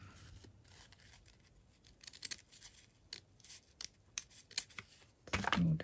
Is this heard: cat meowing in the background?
no